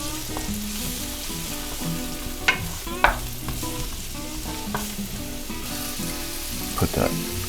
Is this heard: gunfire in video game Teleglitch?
no